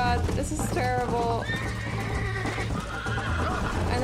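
A horse neighs and whinnies with clip-clopping hooves in Red Dead Redemption, loud and close, the whinnies rising and falling over a steady low rumble of hoofbeats.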